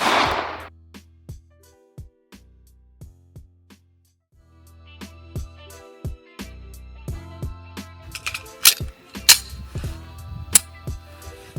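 Rifle shots resuming at a firing range after a jam is cleared: sharp broadband cracks, a few isolated at first and then a denser irregular burst of reports, with handling clicks between them.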